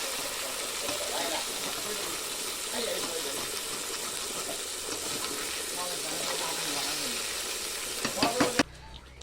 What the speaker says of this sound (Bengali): মাছ প্রায় রান্না হয়ে গেল, কত সুন্দর কষাচ্ছে।